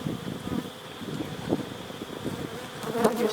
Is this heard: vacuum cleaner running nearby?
no